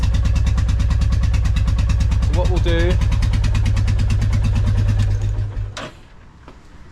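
A Royal Enfield Classic 350 motorcycle engine idles with a steady, loud thumping beat, then is switched off and dies away into quiet; someone speaks briefly over it.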